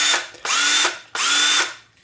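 Makita DF333DZ cordless drill revved in two loud, close bursts, each spinning up quickly, holding a high whine and winding down, with a short gap between them.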